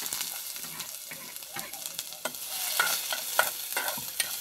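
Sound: chopped onion added and sautéed in a pan

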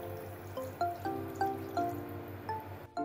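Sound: pouring a cup of water into a pot

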